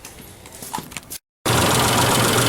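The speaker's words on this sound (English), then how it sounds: "They all sound like this. I don't know why. They all knock." A 1996 Isuzu Trooper engine turns over after a brief pause and settles into a loud, steady, close idle with a constant rough rumble.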